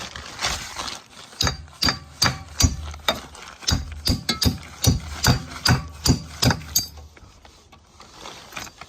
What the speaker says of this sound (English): I'm gonna go and find a hammer.